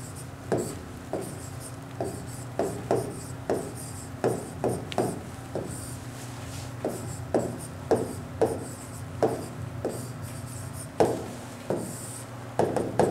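Chalk or marker strokes scratching out equations by hand during a physics lecture, a steady run of short rasping taps and scrapes in uneven rhythm, close and fairly clear over a low background hum.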